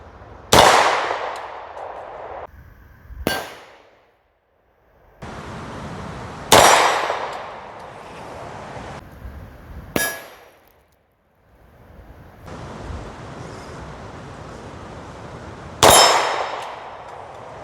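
Rifle rounds strike an AR500 steel armor plate, each impact a sharp, loud metallic clang ringing briefly; five spaced hits arrive several seconds apart in otherwise quiet outdoor surroundings.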